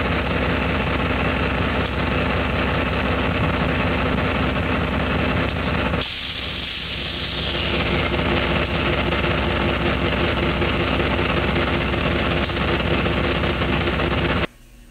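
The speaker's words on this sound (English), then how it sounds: "There's the east end diesel." A diesel locomotive idles in a rail yard with a loud, steady rumble and a throbbing drone, briefly dipping midway before resuming, then cutting off at the end.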